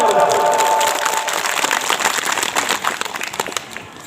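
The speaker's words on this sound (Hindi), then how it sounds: "सबके लिए तालियां बजाएंगे" Audience applause and clapping at a Sarna bhajan and sermon gathering, a dense crowd clatter that starts loud and slowly thins over a few seconds, with a faint tone early on and some voices underneath.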